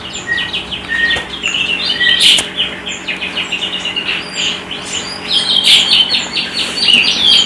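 Wild kemade birds recently released into the open chirp and tweet repeatedly, several calls overlapping at moderate distance, with a brief flutter of wings and steady outdoor background.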